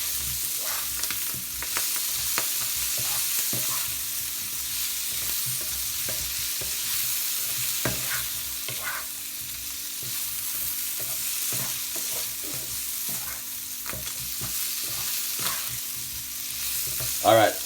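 Very large king prawns sizzle and fry in a hot pan, a steady crackling hiss with occasional stirring clicks and scrapes throughout, close and fairly quiet, with no talk.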